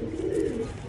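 A pigeon coos once, a soft, low, brief murmur heard faintly nearby.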